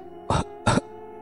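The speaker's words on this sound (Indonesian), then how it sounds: "batuk tersedak singkong rebus" Two short, forceful coughs in quick succession, close and loud, like someone choking briefly on boiled cassava, with a low hum in the background.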